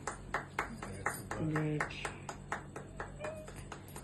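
A group clapping at a tour winning celebration, a rhythmic run of sharp hand claps at a steady beat, with a brief spoken word in the middle.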